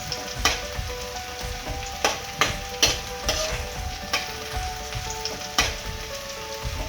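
Ginger-garlic paste frying in hot oil for an Assamese local chicken curry, a steady close sizzle broken by sharp stirring scrapes and clinks every second or so, with no talking.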